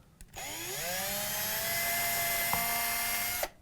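A power drill whines up to speed and runs steadily for a few seconds drilling a screw hole into a Fender guitar body, close and fairly quiet, then stops abruptly.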